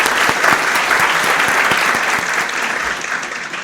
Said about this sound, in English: So let's give these people a round of applause.